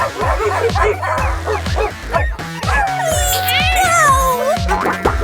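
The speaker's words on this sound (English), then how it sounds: "Doggies, attack!" Three cartoon dogs bark, yip and whine in a rapid, loud flurry during an attack on a stray cat, layered over a bouncy musical backing with a rising whistle-like tone midway.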